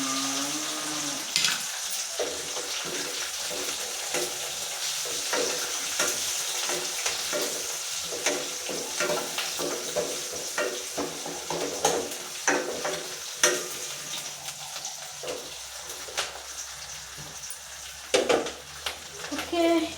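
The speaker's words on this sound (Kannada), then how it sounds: "ಒಣಮೆಣಸಿನ್ಕಾಯಿನೂ ಹಾಕ್ಬಿಟ್ಟು ಒಂದು ಸ್ವಲ್ಪ ಮಿಕ್ಸ್ ಮಾಡಿಕೊಂಡು ಆಮೇಲೆ ಈರುಳ್ಳಿನ ಹಾಕ್ತೀನಿ" Dried red chillies and onions fry and sizzle in a hot pan while a spoon stirs them, steady crackling with repeated scraping clicks throughout, close and moderately loud.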